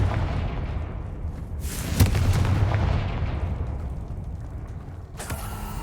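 Confringo spell in Hogwarts Legacy, a booming explosive blast with a sharp hit followed by a long rumbling, crackling roar and a fresh burst of debris near the end.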